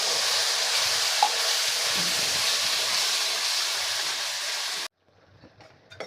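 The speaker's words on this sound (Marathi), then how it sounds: "तर आता आपल्याला हे तेल सुटेपर्यंत परतून घ्यायचं आहे" Masala paste sautéed in hot oil for a double bean curry gives a continuous, close, bright sizzle with occasional stirring clicks, then cuts off abruptly into quiet, faint scraping near the end.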